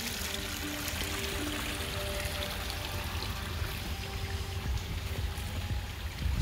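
Water flows steadily from a pond waterfall into a stream outdoors in mid-September, a continuous rushing, trickling wash that stays even and fairly close throughout.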